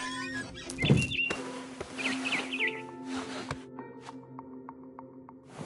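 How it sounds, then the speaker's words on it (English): Brief high chirps and twitters of a barn swallow returning to its nest outside a window, a few scattered calls over soft background noise and light patter. "Then I heard chirping outside my window. It was a barn swallow going back to her nest."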